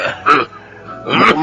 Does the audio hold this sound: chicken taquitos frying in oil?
no